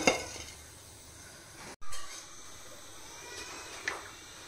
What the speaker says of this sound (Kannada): ಇದೇ ಬಾಣಲೆಗೆ ನಾನಿವಾಗ ಆನಿಯನನ್ನು ಹಾಕ್ತಾ ಇದ್ದೇನೆ